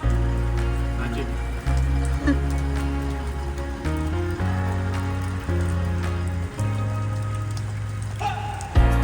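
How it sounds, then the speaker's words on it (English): Heavy rain pours down at a campsite at Coffs, a continuous drumming patter under low, steady tonal droning, with a voice briefly audible. "look at it coming down. it's raining"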